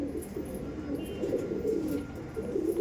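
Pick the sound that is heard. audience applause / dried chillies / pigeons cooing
pigeons cooing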